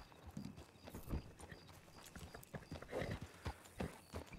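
Horse hooves clip-clop steadily in a ranch roleplay video game, a rhythmic series of close, moderately loud hoofbeats with no voices over them.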